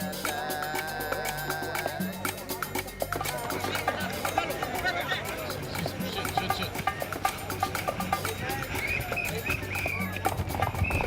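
Horses pound along in a traditional Mam Mayan horse race, hooves drumming steadily under a lively crowd and voices talking throughout, with music in the background.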